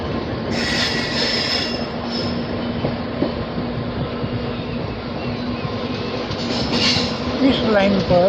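A goods train rolls steadily along a railway line running parallel to a highway, its continuous rumble and wheel noise loud and close throughout, with squealing wheels near the end.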